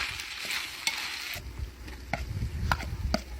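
Onion tossed into a pan with smoked pork fat for a Cossack kulish, frying with a steady crackling sizzle while a spoon stirs and scrapes the pan in a few sharp strokes, close and clear with no talking.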